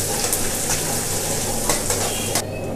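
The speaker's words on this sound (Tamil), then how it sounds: "அதுக்கப்புறமேட்டு வெங்காயத்தை ஆட் பண்ணிடுங்க." Finely chopped onion frying in hot oil with clove, bay leaf and fennel, a loud continuous close sizzle with occasional scrapes of stirring, no voices.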